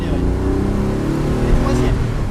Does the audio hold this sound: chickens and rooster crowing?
no